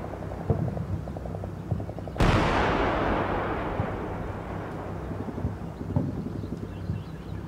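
Artillery fires for effect in the wargame Combat Mission Cold War as one sharp, loud blast, with a long rumbling roar decaying behind it amid faint background noise and small clicks.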